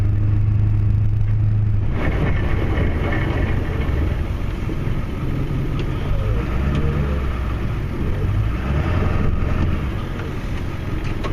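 Ford F250 Super Duty with the 7.3 Powerstroke engine pushing snow piles, a loud steady diesel drone close by that rises slightly after the first couple of seconds and holds without pause.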